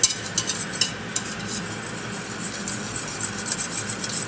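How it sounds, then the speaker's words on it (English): A whisk scrapes and stirs a flour and butter roux in a pan for mac and cheese, giving a steady close rasping and rubbing with small irregular knocks and no voices. "So we're going to just keep stirring this until it's all the little lumps are out"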